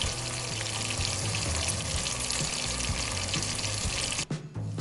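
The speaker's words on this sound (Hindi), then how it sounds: "ऑयल में प्याज हमने डाल दिया। अब हम इसको हल्का सा गोल्डन ब्राउन करेंगे।" Onions fry in hot oil on the way to golden brown for shahi chana dal, a dense, steady sizzle close up that breaks briefly near the end, with no talk.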